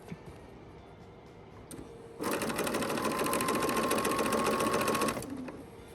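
A sewing machine stitching quilt sashing around a circle runs in one steady, loud whirring burst of about three seconds, starting after a quiet pause and stopping abruptly near the end.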